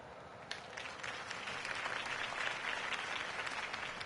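A crowd applauds after a campaign speech in the Batman Telltale game, a steady wash of clapping at moderate volume that lasts the whole stretch.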